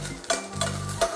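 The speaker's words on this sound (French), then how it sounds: "Ensuite, on jette les échalotes dedans." Chopped shallots frying in olive oil in a saucepan, a close, even sizzle with a few scraping stirs.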